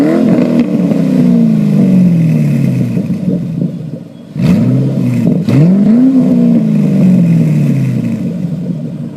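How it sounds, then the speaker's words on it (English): A 2005–2009 Ford Mustang with a stock H-pipe and axle-back exhaust rumbles loudly up close, with deep, steady revving that dips briefly near the middle before climbing again in two rising pulls. "Here's what it sounds like with the stock H pipe."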